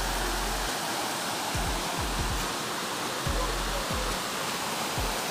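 Steady broadband roar of water rushing over Dao Falls, loud and continuous from start to end, with no voices heard.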